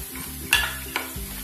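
Rice frying in oil with onion masala for a Kannur-style beef dum biryani, stirred in the pan: a steady low sizzle broken by a few scraping stirs, close and moderately loud, with no talking.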